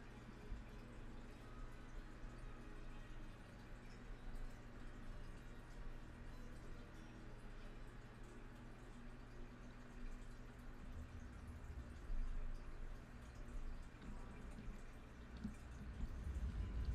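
Water dripping in a cave in Skyrim, a modded fantasy video game, the drops striking rock rather than a pool, a steady soft patter under a continuous ambient hum, faint throughout with a slight swell near the end.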